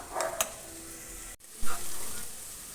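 Ground cashew and coconut spice paste goes into a hot pan for a Kerala catering-style chicken curry and is stirred, giving a soft sizzle with brief scraping stir strokes, quiet and close, with no talking.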